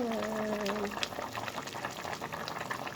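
Pork bone and jackfruit soup bubbles steadily in a pot, a soft continuous boil with small pops, while a voice speaks briefly at the start.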